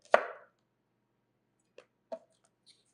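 A knife trims the end off a chunky young scallion with a bulb on a cutting board: one sharp, near chop followed by two softer taps, then quiet.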